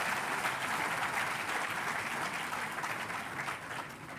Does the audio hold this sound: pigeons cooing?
no